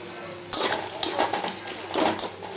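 Onions with salt fry and sizzle in a pan, a close crackling hiss broken by several sharp scrapes and clinks of a stirring spoon against the pan, with no talking.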